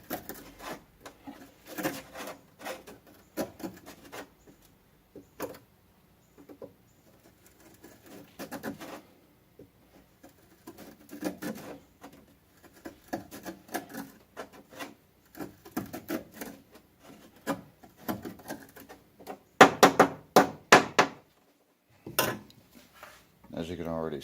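Scraper working carbon deposits off old valves from a hard-driven Chevrolet C-10 truck engine with at least 250,000 miles, close bursts of rasping scrapes in uneven strokes separated by quiet pauses.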